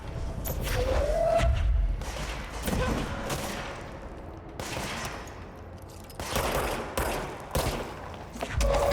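Gunfire in the video game Control, bursts of shots and heavy booms recurring across the stretch, fairly loud and close, with no one talking over it.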